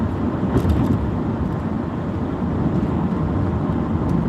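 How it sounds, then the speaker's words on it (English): A cheap, well-worn Toyota Camry beater car drives along with a steady, loud engine drone and constant road rumble, with no talking over it. "I'm in a Camry today, just a little cheap beater car."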